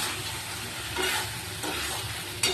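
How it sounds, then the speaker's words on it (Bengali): Eggs stir-fried in a pan of spice masala for egg curry, a steady close sizzle with scraping stirs and a sharper clatter near the end, no talking. "এবার আমি ডিমগুলো দিয়ে কিন্তু আর একবার কষিয়ে নেবো"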